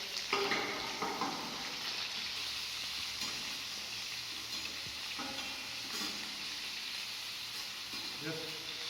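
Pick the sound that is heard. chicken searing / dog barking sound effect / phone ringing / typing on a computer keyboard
chicken searing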